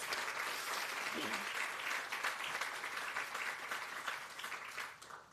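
Applause from an audience at a ribbon-cutting ceremony for a crisis stabilization center, a steady wash of many hands clapping that fills the room and then tapers off near the end.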